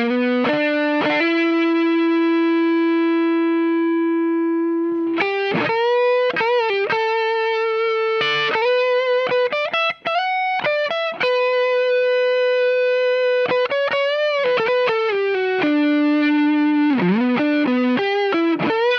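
Electric guitar through a Suhr Koji compressor and Shiba Drive overdrive, a long held note followed by a run of picked single notes with smooth, even sustain, loud and alone.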